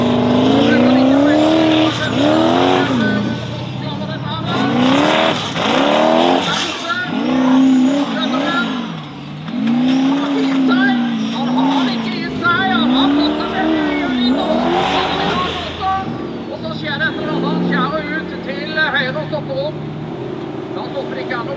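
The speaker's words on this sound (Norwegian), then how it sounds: "Neste bil ut, det er Robert Fosse." Formula Offroad race cars at a Norwegian championship round in Telemark, engines revving hard and rising and falling in pitch as they accelerate, with tire squeal, heard loud and close under continuous excited commentary.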